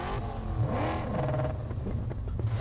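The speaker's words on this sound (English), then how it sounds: "That sounds like a V8." A deep, rumbling V8 car engine in the video game Mad Max revs up and settles, its pitch sweeping as the throttle changes, loud and close with no voices.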